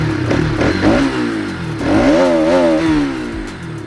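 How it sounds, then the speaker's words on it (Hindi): A Bajaj Pulsar RS 200 BS6 motorcycle revs up close with a bassy, roaring exhaust: two loud throttle blips, the second longer with rising and falling pitch, then settling back to idle. "एग्जॉस्ट नोट आप सुन सकते हैं, काफ़ी बेसी और काफ़ी रोरिंग एग्जॉस्ट नोट है और वो मुझे बेहद पसंद है"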